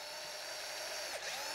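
A power drill whirs steadily at close range, boring a pilot hole through edging trim on a table, a continuous high-pitched spin with a brief dip in pitch near the end as it bores through.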